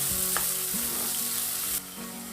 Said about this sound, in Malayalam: ഇനി എല്ലാം കൂടെ നന്നായിട്ട് നമുക്ക് വഴറ്റിയെടുക്കാം.